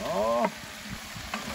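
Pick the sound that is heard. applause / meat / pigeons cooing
meat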